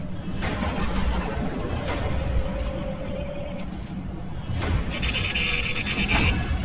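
A telephone rings with a repeated electronic trill over a steady hum of background noise, fairly loud and continuous throughout.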